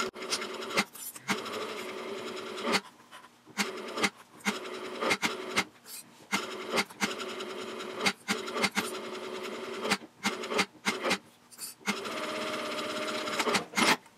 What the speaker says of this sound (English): Now I'm going to baste the pocket to the exterior panel 1/8 of an inch away from the edge